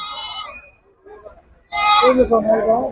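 Goats bleating at the Gudur livestock market: one bleat, then a pause, then a louder drawn-out bleat, close by, with a voice talking between them.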